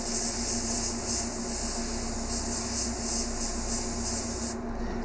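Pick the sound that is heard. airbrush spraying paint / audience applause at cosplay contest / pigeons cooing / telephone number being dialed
airbrush spraying paint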